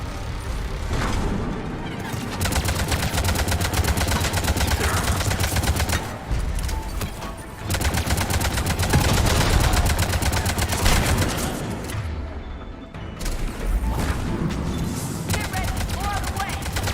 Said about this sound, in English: All right, I can hear a turret.